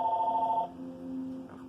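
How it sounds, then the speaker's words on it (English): A telephone rings indoors with a steady electronic tone that cuts off partway through, followed by low background hum. "Of course, someone phones."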